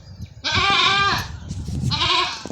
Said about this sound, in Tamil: அதனால் ரொம்ப பசி ஆட்டுக்கு கத்துறா